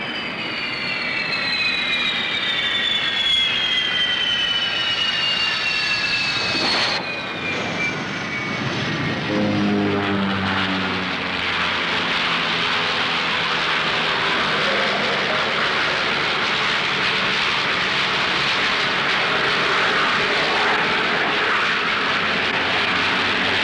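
A Fairey Gannet carrier aircraft approaches HMS Eagle, its engine drone rising with a descending whine, then roaring loudly and steadily as it passes close overhead for over twenty seconds.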